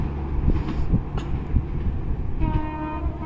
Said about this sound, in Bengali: প্রচণ্ড গতিতে একদম ধুলা উড়িয়ে অবতক্ষ এক্সপ্রেস ট্রেনটি রাজশাহী বিশ্ববিদ্যালয় অতিক্রম করে গেল